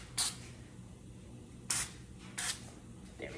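Short hissing spray bursts aimed at dark liners, three distinct sharp puffs spaced irregularly, with a faint fourth at the end, against a quiet room background.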